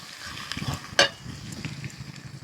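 Green chillies going into onions already fried until reddish in a pan for a Bengali chicken curry: soft frying hiss with a sharp metallic scrape or clink of the spatula near the middle, brief and close.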